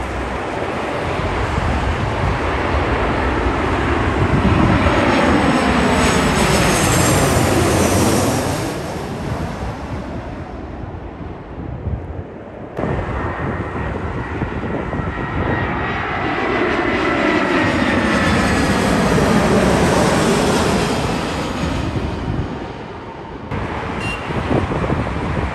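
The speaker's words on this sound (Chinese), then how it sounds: "看飞机降落效果还是比较好的。" A passenger airplane landing at Dalian airport roars past with a loud, sustained jet-engine rumble, swelling and fading twice in long sweeping passes.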